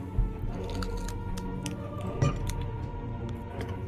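Wet, squishy crunching of celery being eaten in the PC game Shadowgate, with a couple of bites standing out over a dense, steady background.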